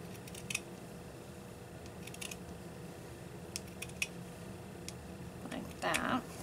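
Scissors snip through a sock in a few short, crisp cuts spread apart, fairly close and quiet against faint room hum, ending with a brief rustle of fabric.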